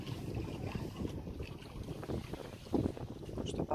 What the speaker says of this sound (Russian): около моря все, это ветер